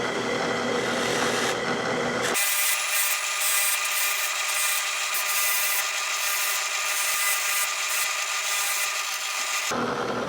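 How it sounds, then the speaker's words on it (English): Steady abrasive grinding and rubbing as epoxy clay sculpture fins are sanded on a spinning sanding wheel in a drill press, loud and continuous with brief pauses at the start and end, no talking. "here I'm grinding on them with a drill press and a sanding wheel"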